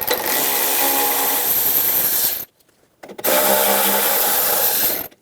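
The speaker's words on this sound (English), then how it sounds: "Using a 7mm socket, we're going to remove the 5 screws for the bumper filler." A power tool fitted with a 7mm socket runs in two loud buzzing bursts with a short pause between them while removing bumper filler screws on a GMC K1500 pickup. The sound is close, with no talk.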